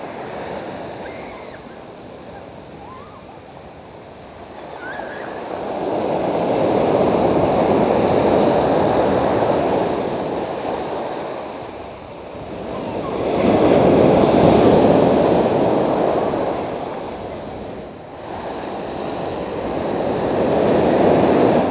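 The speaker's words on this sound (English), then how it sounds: "this is East Beach that I'm currently on, which is a combination of fine-grained shingle and also sand as well" Waves wash onto a beach of fine shingle and sand at East Beach in Dorset, surging in loud rolling swells and easing back, with wind noise buffeting throughout.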